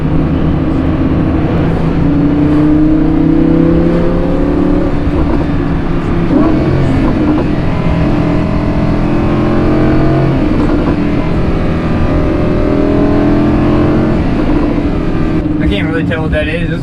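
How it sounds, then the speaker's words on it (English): An older Porsche follows close behind, its engine a steady, rumbling drone with shifting tones that carries on for the whole stretch. "Oh, I got a Porsche behind me."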